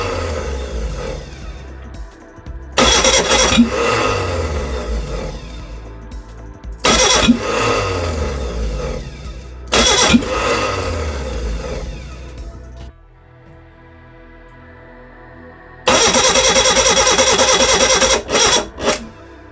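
A Reliant Regal Supervan 3 engine cranks in repeated loud bursts, turning over and trying to catch with a carburettor that backfires, with brief pauses and a quieter gap between attempts.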